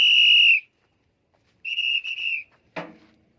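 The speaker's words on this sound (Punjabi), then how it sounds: "ਵੱਜਦੀ ਆ ਸੀਟੀ" A whistle is blown in bursts near a spot where trolley permits are being collected: a loud sharp blast, a pause, then a longer blast broken into short pulses, followed by a brief noisy thump.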